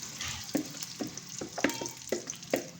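Spice paste for chicken karahi sizzles and crackles in hot oil while a utensil stirs it with soft, regular scrapes, close and fairly quiet.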